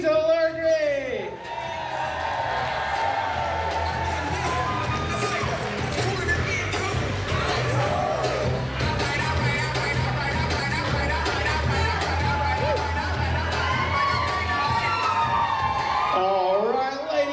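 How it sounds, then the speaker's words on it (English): Wedding guests cheering, whooping and clapping for the matron of honor at a reception, a loud sustained crowd roar with shouts and raised voices throughout. "I'd like to ask that you keep that round of applause going for our Matron of Honor, Amy Delargray."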